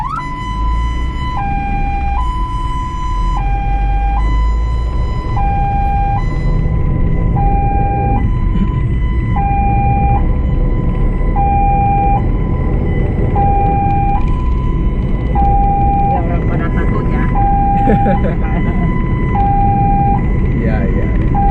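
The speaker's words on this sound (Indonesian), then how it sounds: "Dinyalain sirine ya." An ambulance siren wails in a continuous two-tone alternating pattern during a patient evacuation, loud and close, with engine rumble and traffic noise underneath.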